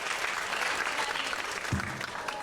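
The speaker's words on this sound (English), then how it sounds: "give her another round of applause for showing up for us today" Audience applauding Marquita Goings from Beyond the Gates at a talk event, a steady, dense wash of clapping from a crowd that fills the whole moment without pause.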